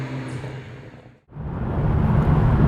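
A Ferrari 612 Scaglietti driving on a highway, a continuous rumble of engine and road noise that cuts out briefly midway, then returns louder and steadier.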